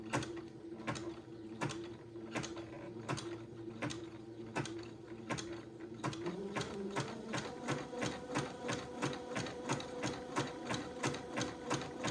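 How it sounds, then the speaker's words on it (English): Sewing machine stitching fabric for a baby quilt project, a steady rapid mechanical rattle of needle strokes that quickens and settles into an even rhythm, close and clear with no talking. "now I'm going to be sewing"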